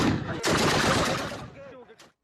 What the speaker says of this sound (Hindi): खोस्त बॉर्डर के पास तालिबान की गोलीबारी